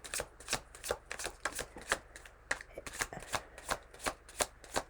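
A deck of playing cards being riffle-shuffled over and over, close and loud: rhythmic bursts of fluttering card snaps at a steady pace of roughly two per second, with no talking.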